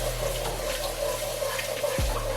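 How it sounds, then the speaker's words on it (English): Milk pouring into a cheese sauce roux in a pan, a steady liquid gush running continuously and close, ending with a short clunk. "And then we're gonna add this milk in here."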